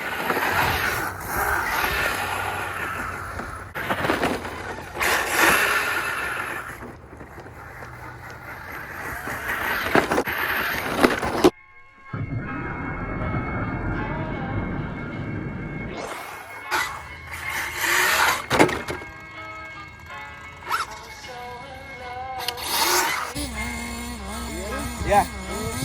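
An HPI RC rally car, nitro or electric, drives through grass with a buzzing motor whine that rises and falls. The sound cuts out briefly midway, then returns in bursts with scraping and rustling.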